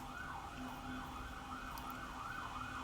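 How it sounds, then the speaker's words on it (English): A siren wails up and down steadily in the distance, its rising and falling tone repeating over a low background hum. "There's a siren."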